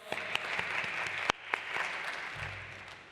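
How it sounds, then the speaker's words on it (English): An audience at a university sport conference session in Helsinki claps to welcome a speaker; the applause is moderate and steady, with a few sharp, close claps popping out above the rest. "Give some applause."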